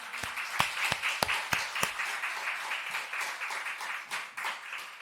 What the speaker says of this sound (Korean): 그 하나님께 한번 감사의 박수 올려볼까요?